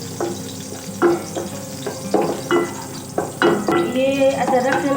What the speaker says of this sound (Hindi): ये तेल मुझे डालिए, और पहले अदरक थोड़ा सा पहले ब्राउन करना